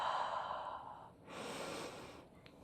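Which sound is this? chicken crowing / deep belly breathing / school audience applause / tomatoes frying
deep belly breathing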